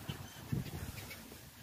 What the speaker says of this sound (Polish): A ile kaczek.